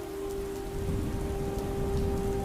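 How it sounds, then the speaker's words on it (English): Steady rainfall pattering on earth, stone and an umbrella, a constant soft drizzle of drops over a faint steady tone, with no one speaking. "The only sound being heard was the pitter-patter of rain pellets striking the earth and stone, as well as the umbrella above their heads"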